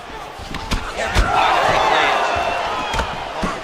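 A large crowd of English fans roars and cheers at a fight event in the video game EA Sports UFC 5, a sustained loud swell of voices with a few sharp impact-like thuds breaking through.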